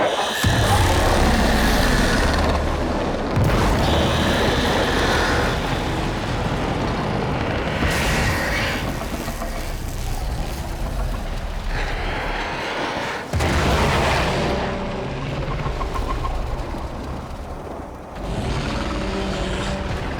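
A large explosion in the video game Warframe, in the Heart of Deimos story ending: dense, loud rumbling booms and crashing debris sustained for about twenty seconds, with brief pauses between heavy bursts.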